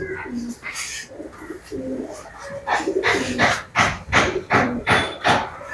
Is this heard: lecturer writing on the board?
no